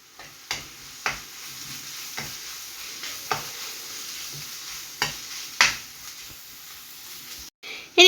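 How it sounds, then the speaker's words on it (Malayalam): Onion with ginger-garlic paste, Kashmiri chili and turmeric sautés for butter chicken, a low sizzle broken by about eight distinct spoon scrapes and knocks against the pan at uneven intervals. "1 ടീസ്പൂൺ കാശ്മീരി ചില്ലിയും കുറച്ച് മഞ്ഞൾപ്പൊടിയും ചേർത്തിട്ട് വീണ്ടും നമുക്ക് വഴറ്റി കൊടുക്കാം"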